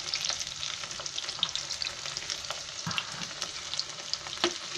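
Crumb-coated chicken pieces fry in hot oil with a dense, continuous crackling sizzle, while occasional scrapes and knocks of a stirring utensil break through up close, with no voices.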